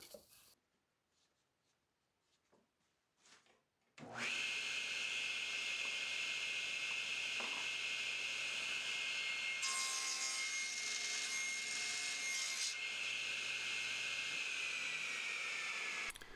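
After some quiet handling noises, a loud power saw starts up and cuts a notch in a wooden table leg, cutting steadily for about twelve seconds, its pitch shifting slightly midway.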